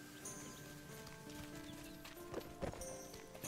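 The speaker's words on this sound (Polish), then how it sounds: "Chodź koń, pojedziemy konno" Horse hooves clip-clop at a steady walking rhythm in the video game Sacred 2, quiet and continuous, with a few louder thuds near the end.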